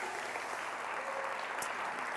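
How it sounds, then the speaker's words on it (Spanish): A church congregation claps for Jesus during a Sunday service, an even wash of sustained applause heard from a distance, steady and fairly faint throughout. "¿Alguien puede dar un aplauso fuerte a Jesús?"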